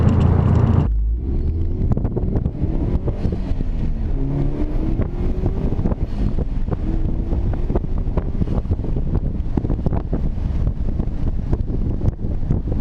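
A 2004 Subaru WRX STI accelerates at full throttle, engine roar climbing in rising pitch sweeps under heavy wind buffeting, loud and continuous with no talking.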